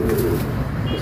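A Teddy highflyer pigeon, imported from Sharjah, gives a brief low coo close by against a busy background.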